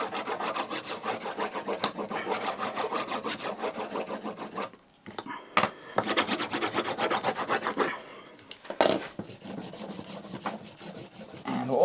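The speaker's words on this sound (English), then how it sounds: "we're going to go and put the honing compound on all of these before we start" Honing compound being rubbed onto a strop held in a vise: steady, rhythmic back-and-forth rasping strokes, close and fairly loud, pausing briefly before resuming in shorter bursts.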